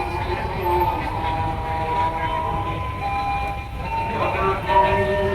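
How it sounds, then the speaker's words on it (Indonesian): Busy night scene outside Surabaya's Pasar Turi railway station: a steady roar of traffic and crowd noise, with passing rail sounds and faint tonal hums, people talking throughout. "Kita explore dulu bagian luar di stasiun Pasar Turi seperti ini."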